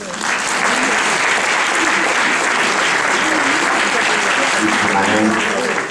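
Audience applause following a choir piece at a Christmas concert: loud, even, sustained clapping from a full room, with a voice faintly underneath near the end.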